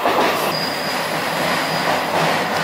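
An Italian passenger train heading toward Florence rolls along the rails with a loud continuous roar, and wheel squeal rises as a thin high whine over the rumble, close and with no voices.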